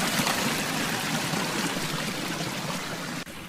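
Rushing waterfall water in an animated cartoon, a steady loud broadband roar of pouring water filling the scene without pause before ending abruptly.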